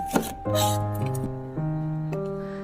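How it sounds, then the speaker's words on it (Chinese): A knife chops a green bell pepper into small pieces on a board, with a few separate sharp knocks spread out under steady background music. "然后对半切开，再改刀切成小块"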